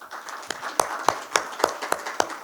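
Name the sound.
conference audience applause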